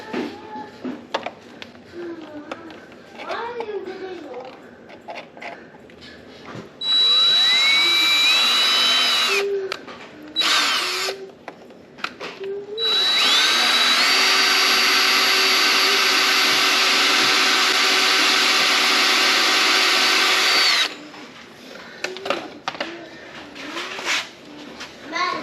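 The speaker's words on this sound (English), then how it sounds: "put the screw in the hole we just drilled here" A power drill bores a hole through the inner fender wheelhouse of a C7 Corvette Z51, whining loudly in two sustained bursts with short pauses and quieter shop noise before and after.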